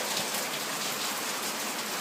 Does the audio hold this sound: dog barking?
no